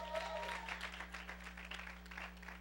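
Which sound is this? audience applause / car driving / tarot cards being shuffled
audience applause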